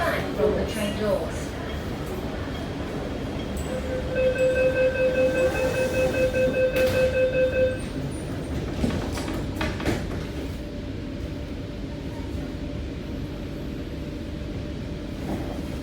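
An MTR K-Train on the Tseung Kwan O line bound for LOHAS Park rumbles steadily, with a rising electric motor whine and door chime tones partway through, and voices talking over the running noise.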